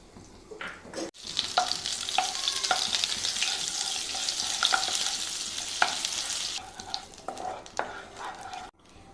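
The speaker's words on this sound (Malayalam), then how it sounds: "കടായി വെച്ച് നമ്മൾ അല്പം ഓയിൽ ഒഴിച്ച് കൊടുക്കുന്നു ഓയിലേക്ക് ഒരു ക്യൂബ് ബട്ടറൂടെ ചേർത്ത് കൊടുക്കുന്നു" A cube of butter melts into a little hot oil in a kadai, giving a steady, fairly loud sizzle and crackle with occasional light clinks, with short quieter breaks near the start and end.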